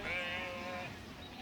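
Sheep bleat on an Idaho rangeland ranch during grazing season, a single drawn-out, wavering bleat close by, fairly loud, with faint open-air background and no talking.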